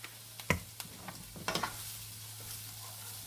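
Onions and garlic frying in a pan, with faint sizzling broken by sharp ticks and scrapes from a wooden utensil stirring, close but quiet, no voices.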